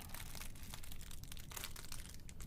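Pastry packaging crinkles and crunches steadily as it is tucked away, a close, continuous papery rustle with no talking.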